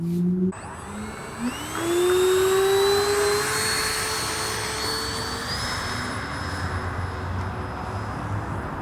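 An E-Flite Habu STS radio-controlled ducted-fan jet spools up and takes off from grass, its high whine rising steadily in pitch and holding loud and close for several seconds.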